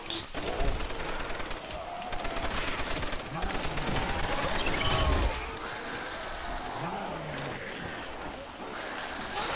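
Sustained gunfire in the zombie survival game Zombie Realism 2.2, dense rapid bursts running loud and continuous with mechanical clatter, and a voice talking over it.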